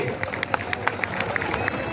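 An audience claps for Amitabh Patil at a wrestling event in Madha, a dense, steady patter of many hands with a few sharper smacks standing out throughout.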